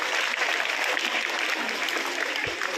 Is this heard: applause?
yes